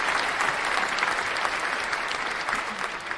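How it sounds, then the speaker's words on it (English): Audience applause at an RFK Jr. Senate hearing, a dense, steady wash of many hands clapping that holds at full strength throughout, close and loud with no one speaking over it. "We gotta put applause to that, brother."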